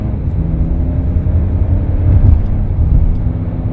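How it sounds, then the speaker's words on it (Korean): A Mercedes GLE SUV with a nine-speed automatic, accelerating in sport mode: a steady, low engine drone and road rumble from inside the cabin, swelling slightly midway with no talking. "스포츠 모드로 바꾸고 한번 달려보도록 하겠습니다."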